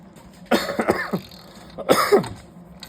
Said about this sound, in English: I've got the crud, so I'm coughing from time to time.